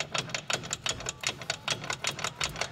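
Repeated dry clattering rattles of a broken part on a 1987 Mitsubishi Pajero MK1 being shaken by hand, in quick irregular bursts, close up with no talking.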